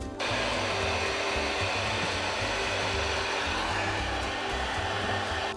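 A heat tool, likely a heat gun, blows steadily at close range while parts of a SpeedyBee Bee35 FPV drone are heated during the build. The airflow roars in a loud, continuous broadband stream for the whole clip.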